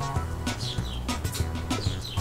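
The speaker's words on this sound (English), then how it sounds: "I hear the birds." Birds chirp and tweet repeatedly over a busy, slightly muffled background, the calls rising and falling in quick bursts, from the game Mario Kart Wii.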